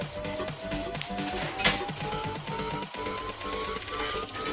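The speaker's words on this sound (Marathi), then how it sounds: "तर मी आता शेंगदाणे काढून घेते" Roasted peanuts scooped out of a hot pan, with rattling, clinking metal scrapes and shuffling nuts in quick bursts, close and fairly loud, over a faint rising tonal hum.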